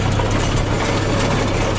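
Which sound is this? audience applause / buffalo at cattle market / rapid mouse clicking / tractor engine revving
tractor engine revving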